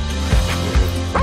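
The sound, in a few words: dog barking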